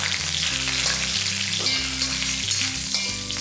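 Fennel seeds, curry leaves and cashews frying in hot oil for a mutton kofta curry, producing a loud, close, continuous sizzle with faint stirring and steady background music.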